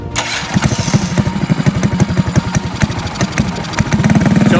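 A drift trike's small engine catches after the key is turned with the choke on, then settles into a close, loud, rapid idle with a steady rhythmic putter and some rev flutter, and no talking over it.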